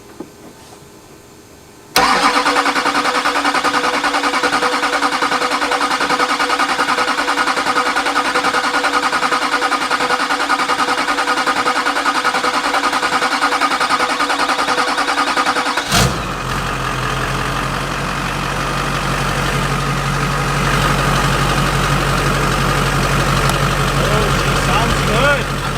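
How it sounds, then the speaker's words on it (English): Junkyard Duramax diesel truck engine cranking over with a rhythmic, labored starter churn for many seconds, then catching and settling into a steady, loud idle nearby. "It wouldn't be cranking over otherwise."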